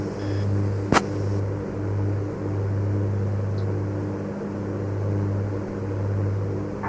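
Steady drone of an Aerostar twin propeller plane on approach in Microsoft Flight Simulator 2024, a constant near engine hum with slight rises and falls and a brief click early on.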